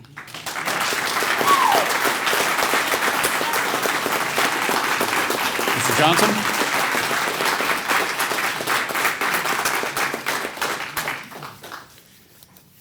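Audience applause at a Republican candidate forum, a dense, sustained round of clapping from many hands that swells early, holds steadily, then fades out near the end, with a brief spoken name over it.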